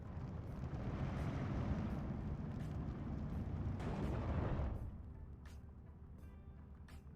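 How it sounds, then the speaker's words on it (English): Mortars fire continuously in a strategy game battle, a dense rumbling barrage of booms that stays loud for several seconds and then drops to a quieter low hum. "And mortars continue firing right here."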